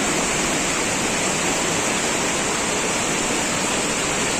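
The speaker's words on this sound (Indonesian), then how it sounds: "Ini air terjunnya." Langkuik Tinggi waterfall in West Sumatra pours with a heavy flow of water, a loud, constant, close roar of falling water with no voices over it.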